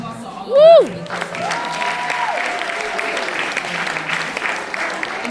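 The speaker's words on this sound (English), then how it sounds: "Round of applause for all of us" Applause from a panel-debate audience at a women's business career event opens with a sharp rising whistle, then settles into steady, moderate clapping that carries on evenly to the end, with some voices mixed in.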